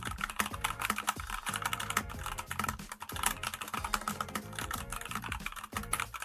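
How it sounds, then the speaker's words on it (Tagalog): Fast, continuous typing on a mini mechanical keyboard with RGB lighting, dense clicky keystrokes close to the microphone at a steady brisk rhythm, no voices. "At ito nga yung sample typing test natin."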